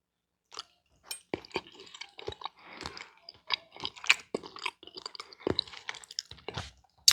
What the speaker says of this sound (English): Now let's taste the candied yams.